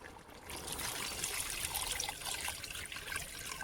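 Tamarind juice, salted and mixed, poured into an onion and fish curry for Nellore fish curry, giving a steady liquid trickle and splash close by, continuous without a break and with no talking.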